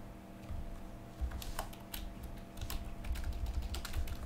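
Typing on a computer keyboard during an online game session produces a steady patter of quick, light key clicks at close range, fairly soft, with no talking.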